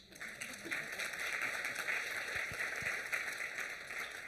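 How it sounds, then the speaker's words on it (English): Steady applause from an audience at a business training session, even and continuous throughout with no voices over it. "give them a round of applause"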